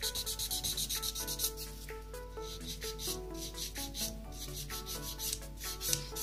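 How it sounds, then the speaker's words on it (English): A 240 grit nail file rubs over gel nails in quick, rhythmic strokes, a close scratchy rasp repeating several times a second, with no speech. "this file is a 240 grit file. It's really gentle on the nail."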